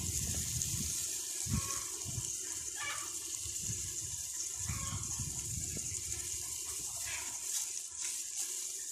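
Water splashes and pours onto an onion seed nursery bed after covering, with uneven gushes and splatters over a steady background hiss, moderately quiet and close.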